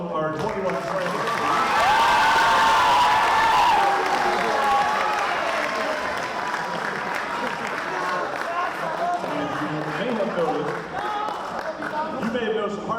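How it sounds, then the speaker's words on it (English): An audience at an eighth-grade poetry slam applauds in a sustained, dense wash of clapping that swells early and then holds steady. Scattered cheers and voices rise through it, and a speaker's voice can be heard over the crowd. "Let's have a round of applause for all of our 21 friends."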